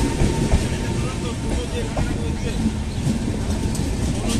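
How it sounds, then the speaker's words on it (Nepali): A train arriving and moving along the line on a Siliguri to Sikkim journey, a loud steady rumble with faint rhythmic clicks, heard up close under people talking. "रेल आयो अब हामी चाहिँ कहाँ चढ्ने हो चाहिँ थाहा छैन"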